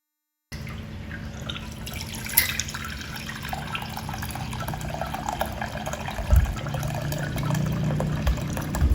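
Water pouring steadily from the outlet of a Klarstein Brauheld Pro homebrew brewing machine while making German wheat beer, a continuous close trickle and splash with a low steady hum, no talking.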